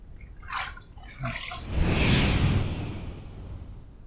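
A razor with a Personna GEM blade is rinsed under a running tap: a few light clicks and splashes, then a rushing stream of water swells and slowly fades, close by.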